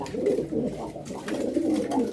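Pigeons coo close by in soft, repeated throaty bursts, a low rolling murmur that continues through the moment.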